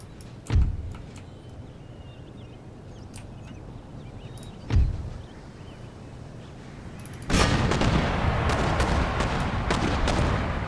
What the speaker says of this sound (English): These mortars are an absolute menace.